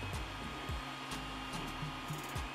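A 3D printer runs while printing keychains, giving off a steady motorized whir with repeated rising and falling stepper-motor tones and small clicks.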